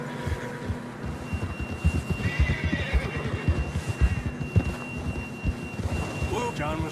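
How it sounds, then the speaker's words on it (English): A horse neighs and whinnies in Red Dead Redemption 2 amid rumbling rain and thunder-like ambience, with hoofbeat-like thuds underneath and a brief voice near the end. "John was riding that horse when we left Blackwater."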